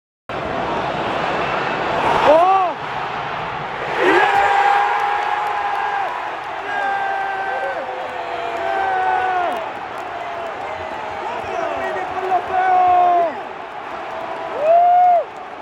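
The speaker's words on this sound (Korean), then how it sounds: "확실히 다른 경기장보다 수용 인원이 많아서 그런지 팬들의 함성이 정말 엄청났어요" A large football stadium crowd roars and chants during a Tottenham–Liverpool match in England, a loud, continuous swell of massed voices with rising cheers and sung phrases throughout.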